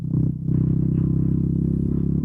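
Bajaj Dominar NS400Z motorcycle engine in road mode, a steady low rumbling idle with a fast, even pulsing beat, close and alone after a brief dip in the first half second.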